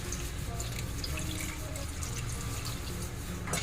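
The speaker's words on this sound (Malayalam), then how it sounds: "കുറച്ച് വെള്ളവും കൂടി ഒഴിച്ചിട്ട് നമുക്കിതൊന്ന് വേവിച്ചെടുക്കാം." Water pours and splashes into a pan of crab roast close by, a steady trickling gurgle lasting a few seconds, with no voices.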